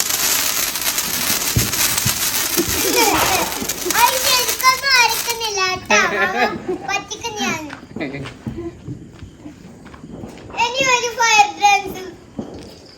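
Fire dance fireworks set off during Vishu celebrations, crackling and popping bursts with children shouting and chattering loudly throughout, the crackle fading in and out.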